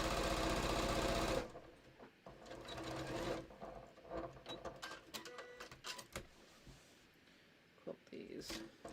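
A sewing machine quilts a batik hat piece with Mettler Poly Sheen thread, first a loud steady run of stitching, then stopping and restarting in shorter bursts with clicks and handling noises.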